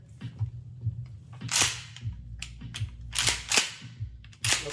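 Mossberg 500 pump-action 12-gauge tactical shotgun being cleared, with a series of sharp metallic clacks and racking snaps spaced irregularly, close and fairly loud, with no talking.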